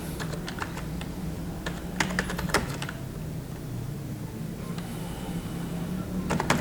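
Fingers type on a computer keyboard in MS Word, producing close, irregular clicks in quick clusters with short gaps, over a faint room hum.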